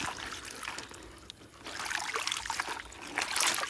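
Water trickling and splashing as aquatic plants are rinsed for feeding snails, a steady close wet dribble that swells toward the end, with no talking.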